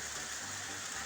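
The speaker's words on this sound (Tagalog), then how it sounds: "Ulang hapon dito sa amin ngayon." Rain on an afternoon at home, a steady, soft wash of falling drops hissing evenly at a faint level, with no voices.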